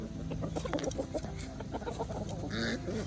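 Chickens cluck and chatter close by in a busy stream of short, overlapping calls, with a louder squawk near the end.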